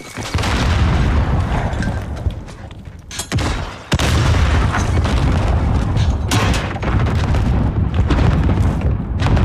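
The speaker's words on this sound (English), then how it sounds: "there's a lot of nades going towards that A site" Grenades burst one after another around the A site in a competitive multiplayer shooter match, loud and close with a dense, roaring rumble, a brief lull near the middle, then more blasts and crackling gunfire.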